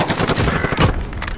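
A quick volley of gunshots in a Search and Destroy match crackles up close as rapid, sharp bursts packed into little more than a second.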